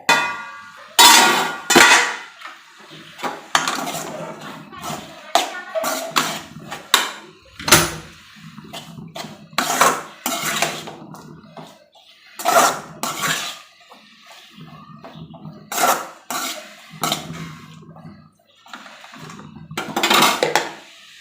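Coconut, green chillies, garlic, turmeric and cumin being crushed together for a Kerala spinach and dal thoran, heard as a long series of hard, irregular knocks and clacks that come close and loud, one after another, with brief pauses between bursts.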